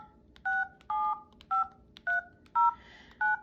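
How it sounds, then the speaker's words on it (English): Keypad tones ring out as a number is dialed on a Coolpad Snap flip phone, six short, evenly spaced two-tone beeps, each clear and close, with no voices. "we can literally just start dialing that number"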